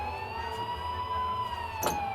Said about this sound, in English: here are the freaking police sirens